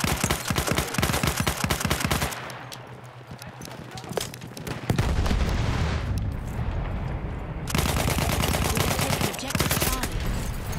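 Gunfire in the World War I shooter Battlefield 1 on the Monte Grappa map, dense rapid bursts and shots crackling throughout, broken by a brief lull, with talk over it.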